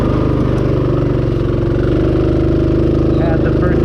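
A Rokon motorcycle engine labors through a first-gear hill climb on a trail, a loud, steady low chugging drone close by that holds throughout with little change.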